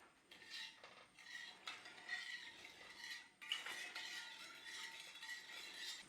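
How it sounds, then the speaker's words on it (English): A metal spoon scrapes and clinks steadily against a metal pan while stirring a sweet and sour sauce of orange juice over a flame, heard faint and close with no talking. "Now I'm using a metal spoon before anybody complains about metal on metal"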